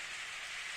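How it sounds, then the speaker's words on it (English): Steady rainfall in the Steins;Gate video game: an even, soft hiss of rain on surfaces, faint and continuous, with no voices. "Hey! Raining!"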